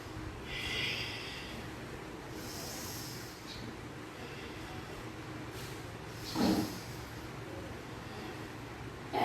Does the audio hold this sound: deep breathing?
yes